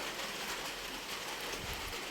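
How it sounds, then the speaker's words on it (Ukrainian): Light rain patters steadily and softly, a continuous fine hiss with no voices. "У нас дощик пішов."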